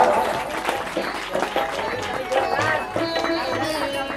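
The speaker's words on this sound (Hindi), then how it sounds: "बजाइए ताली" An audience at a Bhagwat Katha religious gathering in a village claps steadily in a dense, continuous patter, with crowd chatter and voices running underneath.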